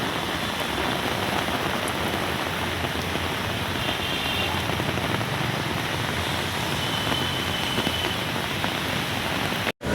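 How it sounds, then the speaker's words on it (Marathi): Steady rain falls continuously, a dense hiss of drops on hard surfaces with a faint rumble underneath, unchanging throughout. "पावसाला पण सुरुवात झालेली आहे बघू शकता"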